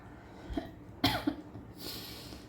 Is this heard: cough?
yes